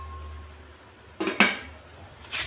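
A metal lid is set down onto a cooking pot holding squash and other vegetables, two quick close clanks followed by a softer rattle a moment later.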